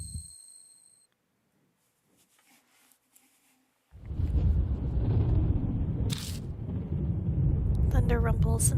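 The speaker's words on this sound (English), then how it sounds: "Thunder rumbles in the distance." Distant thunder in the horror video game Death Mark: after a near-silent stretch, a deep, sustained rumble rolls in and continues steadily, with a voice faintly heard near the end.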